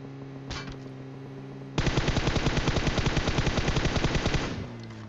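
A long burst of rapid automatic gunfire in a mobile shooter game rattles close and loud for nearly three seconds, preceded by a single faint shot over a humming game background.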